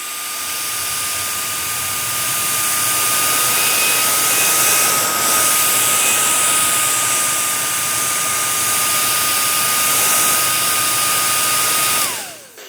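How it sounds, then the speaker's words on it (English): A hair dryer blows straight into a microphone fitted with a big fuzzy dead-cat windscreen, held right up on the dryer's grill: a loud, steady, close rushing whoosh with a faint whine, cutting off abruptly near the end. "I'm right up on the grill of the hairdryer"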